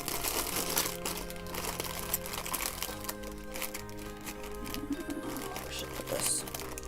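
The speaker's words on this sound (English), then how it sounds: "I will try and open this far away so I'm not absolutely blowing you out with the crinkling" A trail mix snack bag is crinkled open at some distance, giving soft scattered crackles under pigeon cooing and background noise.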